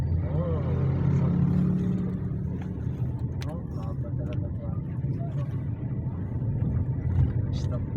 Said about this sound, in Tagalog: Traffic talaga rito, ma'am.